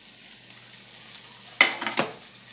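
Small shallots, garlic cloves, a piece of ginger and cashews fry in hot oil with a steady soft sizzle, then two sharp stirring scrapes near the end.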